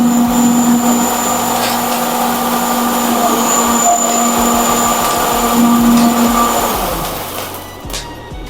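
A row of cold spark machines at an event fires in sequence from left to right, producing a loud continuous hissing roar with a steady tonal whine that holds for several seconds before fading out near the end.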